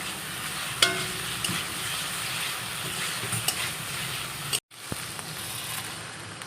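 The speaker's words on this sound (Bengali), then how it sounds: "ঝোলটাও ফুটে গেছে মাছগুলো দিয়ে দিয়েছি" Fish curry broth boils in a pan in a home kitchen, giving a continuous close bubbling sizzle with occasional sharper pops and a brief cut near the end.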